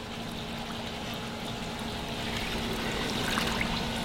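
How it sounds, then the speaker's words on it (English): Cool fresh water running steadily over a wetsuit as it is rinsed, a continuous close hiss of flowing water with no talking. "Give your wetsuit a good, cool, freshwater rinse after each use."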